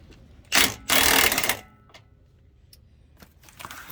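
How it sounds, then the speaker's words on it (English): A wrench works the lower ball joint nuts on a 2004 4x4 Chevy Astro, giving two loud close bursts of ratcheting clicks followed by faint scattered metallic ticks. "Getting these nuts off of the..."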